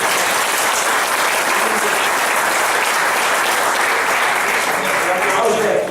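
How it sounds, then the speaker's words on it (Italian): A packed hall audience at a political gathering in Villa del Conte applauds steadily and loudly, a continuous wash of many hands clapping at an even level from start to finish. "Sì, un applauso a chi ci ospita."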